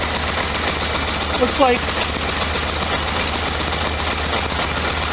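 Air-cooled engine of a 1973 VW Super Beetle idling, a steady low rumble with a rapid even pulse throughout, a brief voice speaking over it.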